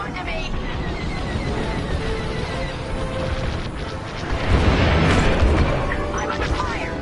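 Enemy fire and booming explosions in a Star Wars space combat video game, a dense continuous rumble with a heavier blast swelling midway, mixed under game music and effects.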